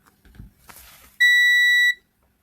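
Faint handling clicks, then a multimeter's continuity buzzer gives a single sharp, high electronic beep, holding steady for under a second before cutting off, while testing a shorted capacitor on a car engine control module.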